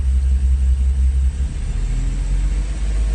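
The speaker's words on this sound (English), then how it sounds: "that's automatically revving the engine up slightly" BMW M135i with the N55 engine idling on the ground after warming up, a steady low rumble that lifts slightly as the revs rise automatically partway through, close and continuous with no talk.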